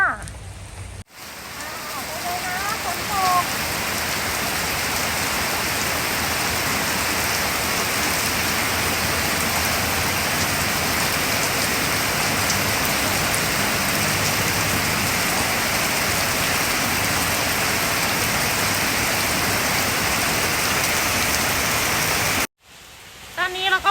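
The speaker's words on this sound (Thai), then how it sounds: "ติดฝนอยู่ไปไหนไม่ได้เลยค่ะ" Steady rain pours down at a riverside pier in Thailand, a dense, even hiss lasting almost the whole stretch, with brief faint voices near the start.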